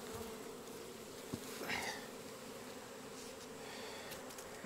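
A cluster of bees on hive frames hums as a soft, steady buzzing drone, faint and close, with a brief louder swell near the middle and no voices.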